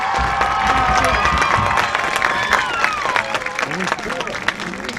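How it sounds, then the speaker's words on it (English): A stadium crowd at a high school football game claps and cheers for the marching band's graduating seniors, loud, dense applause that swells at first and then slowly thins. "please a round of applause for the 2021 Toronto High School Red Knight Marching Band Seniors"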